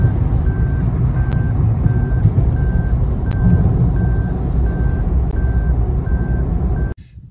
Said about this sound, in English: I have a cute little video of the trunk sensor that I drove with for 2 hours.